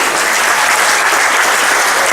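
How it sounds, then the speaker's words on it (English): A school speech-day crowd gives sustained, even applause for re-elected president David Eversley, many hands clapping together loudly and continuously with no voices over it. "Yes, you should applaud him."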